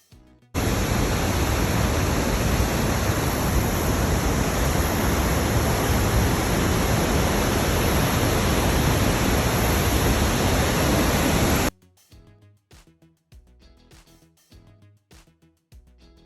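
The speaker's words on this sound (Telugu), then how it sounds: "ఇక్కడ 2 ఫాల్స్ కనిపిస్తున్నాయి కదా, లెఫ్ట్లో ఉన్నది వచ్చేసి అమెరికన్ ఫాల్స్, రైట్లో ఉన్నది వచ్చేసి బ్రైడల్ వేల్ ఫాల్స్." Constant, dense roar of Niagara Falls, the American Falls and Bridal Veil Falls, heard loud and close for about eleven seconds before it cuts away to quieter sounds.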